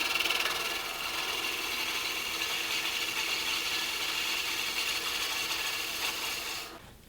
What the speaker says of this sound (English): A little bit more with the Excu, and then I'll be ready to move on to shaping the scoop.